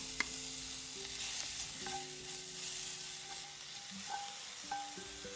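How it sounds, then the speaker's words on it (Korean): Minced garlic and onion sautéing in olive oil over low heat, giving a steady close sizzle with occasional stirring clicks and a faint musical background throughout, no speech. "달궈진 팬에 올리브 오일을 두르고 약한 불에서 먼저 다진 마늘과 양파를 볶아주세요."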